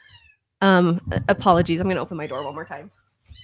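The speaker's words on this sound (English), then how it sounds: "We're working around the cat today." A house cat meows twice, a near, loud drawn-out call followed by a longer wavering meow, with a soft faint cry at the start and end and no talking over it.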